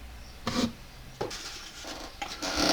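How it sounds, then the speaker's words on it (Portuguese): A ring is sanded by hand with 320-grit sandpaper in a jeweler's workshop while stones in the band are protected, giving three or four short, soft rasping strokes with quiet pauses between. "a lixa que eu estou usando aqui é a lixa 320"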